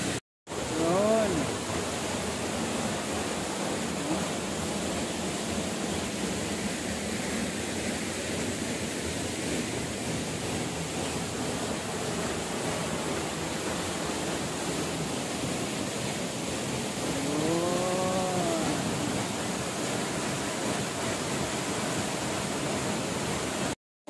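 Steady, full roar of a waterfall at Jive Highland Resort in Datu Salumay, Marilog, constant and close throughout, with faint voices at moments under the rushing water.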